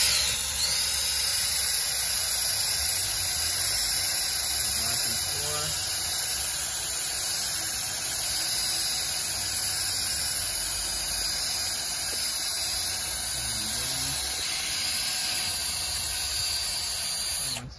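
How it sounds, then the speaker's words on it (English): A small angle grinder fitted with an eraser wheel strips decals from a boat's gelcoat hull, giving a steady, loud high-pitched whine with a grinding hiss that holds constant throughout. "now we're gonna be using an eraser wheel attached to a little angle grinder"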